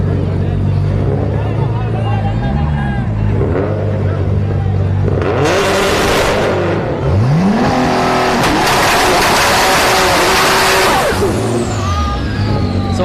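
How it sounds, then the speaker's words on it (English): Nissan GT-R drag car at a no-prep drag race at Orlando Speed World, its engine revving and accelerating loudly with bursts of roaring exhaust, other track noise, and talk running throughout. "the way it sounds like right now, it is definitely like a 7-second car"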